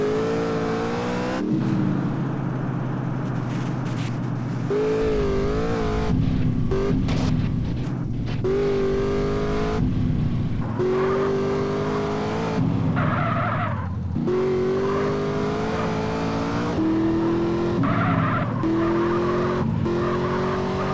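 A fast-driven car in GTA San Andreas revs hard through rising and falling engine pitch with gear changes and bursts of tire squeal, loud and continuous for the whole stretch.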